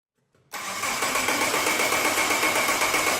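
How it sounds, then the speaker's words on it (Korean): A car engine catches after a brief quiet cranking moment, then runs steadily at a loud, even idle, following a fuel system check with injector fuse inspection. "크랭킹을 시키고 엔진 작동 상태를 확인을 해 봅니다"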